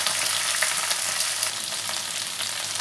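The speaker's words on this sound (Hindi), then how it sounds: "गैस का फ्लेम तेज रख के भिंडी को हल्का फ्राई करके निकाल लेना है।" Okra frying in a pan over a high gas flame, a dense, even sizzle held throughout with faint scattered crackles, close and fairly loud, with no voices.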